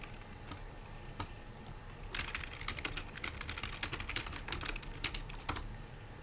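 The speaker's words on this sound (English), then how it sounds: "is the keyboard really that loud" Rapid, loud clicking of a computer keyboard being typed on, keystrokes clattering in irregular bursts with no voices.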